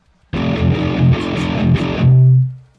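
A Harley Benton baritone guitar played through an amp sim with a 612 cabinet gives a loud, distorted riff of chugging chords lasting about two seconds, then ends on a sustained low note that rings out and fades.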